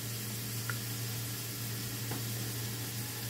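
Oil heating in a pan before garlic goes in for rice, a soft steady sizzle under a low constant hum, faint and even throughout.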